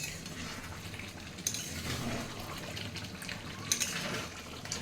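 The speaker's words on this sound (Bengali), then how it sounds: "এবার রান্না বসিয়েছি ভাত তো হয়ে গেছে চিকেনটা বসিয়েছি" Chicken cooks in a pan on a home stove with a steady, close frying sizzle, punctuated by a couple of brief clinks.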